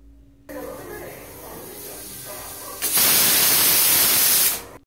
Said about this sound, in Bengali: এবার আমি সবকটাকে একসাথে প্রেশার কুকারে একবার সিটি দিয়ে দেবো।